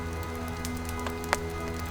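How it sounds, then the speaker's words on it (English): Light drizzle pattering softly on a canvas Lavvu tent in UK woodland, a quiet steady patter with scattered individual drops and one sharper tap near the end. "rain's pitter-patting away on the Lavvu here"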